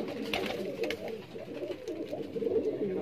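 Rampuri pigeons coo on a rooftop in Rampur, soft repeated throaty calls overlapping at close range with faint background noise.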